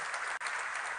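A full room applauds the newly sworn-in national dean of Peru's College of Engineers in a short, dense burst of clapping, with a brief dip in the middle.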